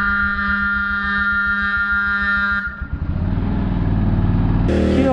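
A new KTM Duke 200 BS6 motorcycle sits close by, first under a loud steady tonal hum, then a rumbling, pulsing engine note that rises and continues to the end.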